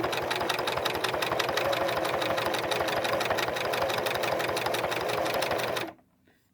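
A Singer Merritt 4525 sewing machine runs at a steady, rapid stitching clatter, loud and close, then stops abruptly near the end.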